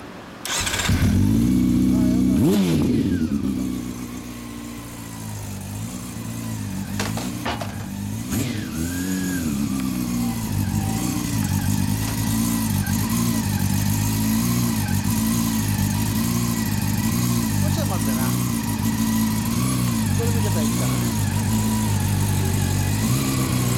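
A 2014 Honda CB400 Super Four Hyper VTEC Revo (NC42) with an aftermarket exhaust starts up and runs loud and close, its steady inline-four idle punctuated by a few sharp throttle blips, with no talk over it.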